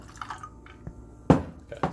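Water being poured into a cup of espresso: a few separate drips and small splashes, one louder splash near the end, close and fairly quiet, with no talking.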